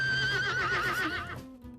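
A horse neighs loudly and close, one long wavering whinny that trembles in pitch and then falls away into a quieter snort.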